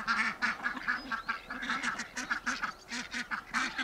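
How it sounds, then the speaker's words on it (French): Indian Runner ducks kept in a vegetable garden quack in a rapid, continuous chorus of many overlapping calls, excited and fairly close, with no talk over them. "le matin, quand elles sont toutes excitées, elles font coin coin coin coin coin coin coin"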